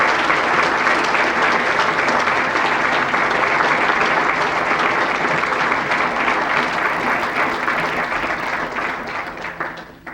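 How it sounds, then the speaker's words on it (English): Sustained, loud applause from a banquet audience at an annual chamber of commerce awards dinner, steady and full for most of the stretch before tapering off at the end. "well-deserved applause."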